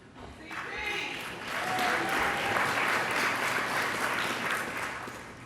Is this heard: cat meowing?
no